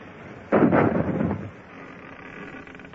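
A ship's cannon fires a single heavy shot in a naval radio drama: a sudden loud boom that rumbles and decays over about a second, with no voices.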